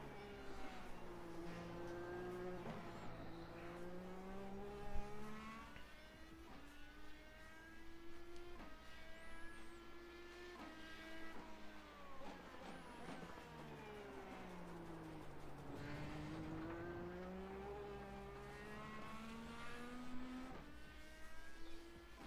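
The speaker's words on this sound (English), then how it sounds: "I like how the Indy cars sounds more than the F1 cars" An Indy car engine in the iRacing sim screams through repeated rises and falls in pitch as the car accelerates, shifts gears and brakes through corners. It is loud and continuous, with no talking over it.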